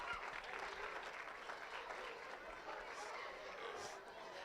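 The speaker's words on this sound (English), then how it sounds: "let's hear a round of applause for our two kids out here in our drive." Steady applause from a crowd at a county fair 4-H market hog show, a continuous wash of clapping at moderate distance with faint chatter mixed in.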